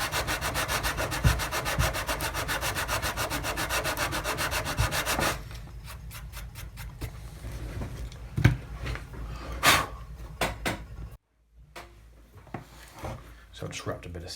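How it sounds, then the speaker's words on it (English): Hand sanding of a wooden model ship's capping with sandpaper wrapped around a dowel, close rapid rhythmic rasping strokes that later turn into slower scattered rubs and taps, with a short silence near the end. "I just wrapped a bit of sandpaper around a dowel, and I'm just going to hand finish it"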